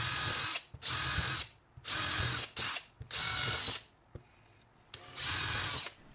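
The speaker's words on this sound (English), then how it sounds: "I could begin the tedious task of drilling away all the material with a small drill bit." Small drill bit boring starter holes in wood, five or six loud bursts of high whirring with short quiet gaps between them, close and alone without talk.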